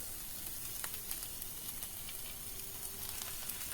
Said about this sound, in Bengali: এবার দিয়ে দিচ্ছি টমেটো কুচি